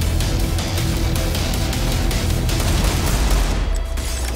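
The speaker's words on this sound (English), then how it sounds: "Fallen lands another needed frag here by that Deagle" Dense automatic gunfire from a Counter-Strike match rattles continuously in rapid bursts, loud and busy throughout, with no talk over it.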